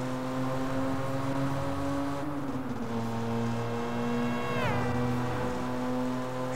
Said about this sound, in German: wie sich das Auto im Tunnel anhört